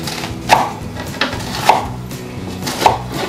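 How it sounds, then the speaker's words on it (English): A knife chops through zucchini on a cutting board for soup, three sharp evenly spaced cuts about a second apart, close and clear with no talking. "then you're going to take your knife and run it through this way"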